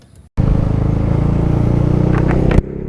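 A Yamaha NMax old-model scooter with a 166 cc bore-up, built with L300 parts, drones steadily and close during a test ride, starting abruptly after a brief quiet moment and cutting off sharply near the end.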